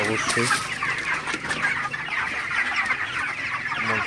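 Broiler chickens in a poultry shed cluck and chatter continuously, many birds close together, with a few sharper calls standing out from the flock.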